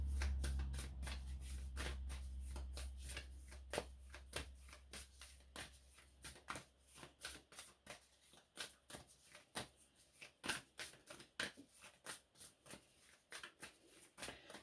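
Tarot energy cards being shuffled by hand, a run of soft, crisp riffling flicks and taps at close range, irregular and faint, with no talking.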